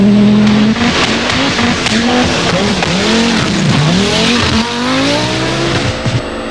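A Group B rally car engine at the 1985 Scottish Rally screams at its rev limiter, bouncing and stuttering as it holds high revs, loud and close with no speech.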